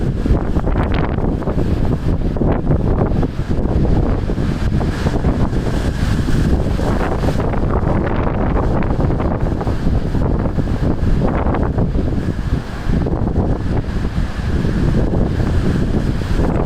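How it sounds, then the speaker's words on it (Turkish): North Sea waves break and surge along the beach at Ostend, a steady loud wash of surf mixed with heavy wind buffeting the microphone, with no speech. "burada bile inanılmaz dalga oluşuyor"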